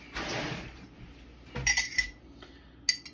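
A spoon clinking against a glass of fresh-squeezed lemonade while seeds are fished out, a few light, bright metallic taps spread apart over soft handling noise, close by.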